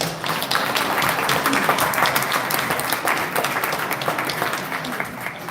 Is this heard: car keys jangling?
no